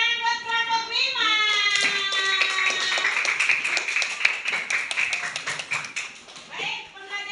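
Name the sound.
class clapping for a group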